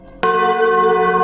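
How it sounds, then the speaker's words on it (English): A single church bell strikes once loudly and close, its bright ringing tone hanging on and sustaining evenly to the end. "and the bell rang again."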